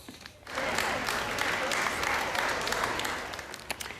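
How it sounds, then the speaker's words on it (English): Traders and shoppers at Barnsley Market applaud a long-serving stallholder receiving a trophy, a dense burst of clapping that rises quickly and holds for about three seconds before thinning out. "fellow traders and shoppers paused to applaud Sue as she was presented with a trophy to mark the moment"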